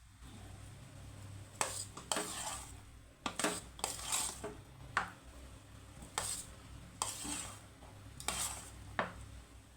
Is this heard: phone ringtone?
no